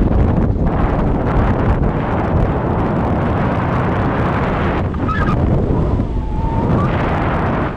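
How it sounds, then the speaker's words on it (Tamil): Strong wind buffets the microphone in a continuous loud roar, gusting without pause, at Samanar Hills near Madurai. "சூப்பர் காற்று வருது"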